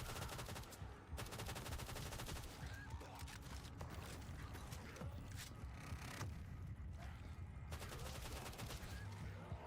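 Rapid gunfire in a custom zombies video game map, dense bursts of automatic shots firing almost continuously with a few short pauses, loud and close, with no speech.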